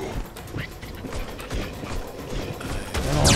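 Abomination monster in the shooter game Serious Sam 3: BFE, a grinding, creaking mechanical noise that pulses irregularly among game sounds, growing louder and harsher toward the end.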